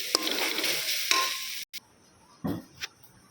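Paneer being mixed into a vegetable momo filling in a pan, with a dense sizzling stir for over a second, then a short break and two brief scraping touches close by.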